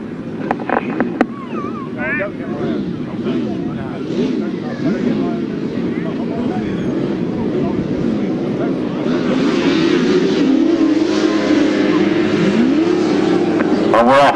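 Grasstrack racing sidecars roar away from the start and accelerate down the first straight, a dense, continuous engine drone that stays loud throughout, with a commentator talking over it.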